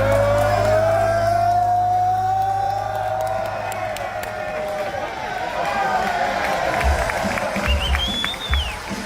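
Crowd at a WWE NXT wrestling show in Florida cheering and shouting steadily throughout, with whoops rising near the end and an announcer's voice over the arena noise.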